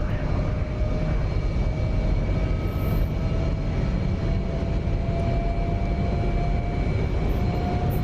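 F-22A Raptor jet in a DCS flight simulator holding a steady, loud afterburner roar through a hard right turn, a continuous broadband rumble with thin whining engine tones above it and no break.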